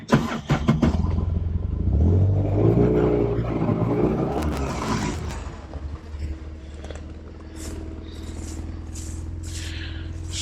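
Vehicle ridden off to the next trap set, its engine revving up loudly and close, then dropping to a steady running rumble with rattles and bumps over the rest of the ride.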